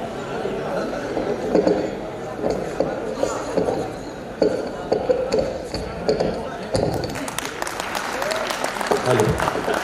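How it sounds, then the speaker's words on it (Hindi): A live audience at a Hyderabadi comedy show claps in a loud, dense spread of applause. Chatter sounds underneath, and the clapping grows sharper and stronger near the end. "ज़ोरदार तालियां बजाइए"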